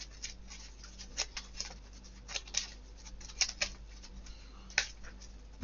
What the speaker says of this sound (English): and then give my deck a quick shuffle